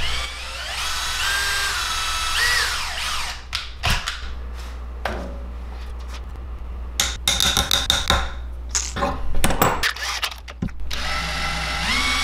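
A small power drill whirs in bursts, stopping and starting with clicks and taps between runs, close by and fairly loud, drilling a large grayling swimbait.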